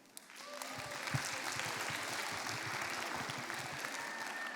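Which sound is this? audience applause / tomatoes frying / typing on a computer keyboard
audience applause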